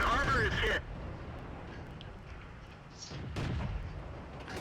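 A Skoda T40 tank gun fires in World of Tanks: one loud, booming cannon blast at the very start, then quieter battle ambience.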